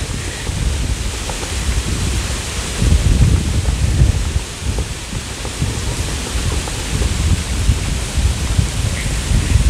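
Strong wind roaring steadily outdoors at Waterton village, Alberta, a loud broadband rush with gusty swells and low rumbling buffeting throughout.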